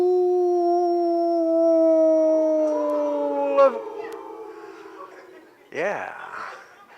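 Several long, wavering howls of timber wolves rise and hold together in a chorus, followed by a short yipping, rising-and-falling wail near the end.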